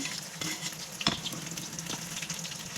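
Onion and garlic fry in a pan for pinakbet, a steady close crackling sizzle with scraping stirs and one sharper clink partway through, no voices.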